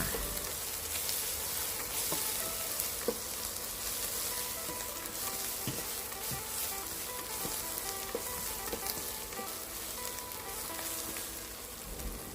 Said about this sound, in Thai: เฮากระใส่พริก กระเทียมลงไป แล้วก็ ผัดค่ะ ผัด ไอ้ผัดกระเทียมกับพริก ให้มันหอมแล้วจ้ะ